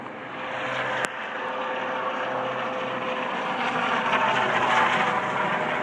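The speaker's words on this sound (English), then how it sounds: "You have to excuse the noise from the helicopter from the hospital" A steady, loud rotor drone of a hospital helicopter passing overhead, continuous throughout with a broad rumbling roar and no talking.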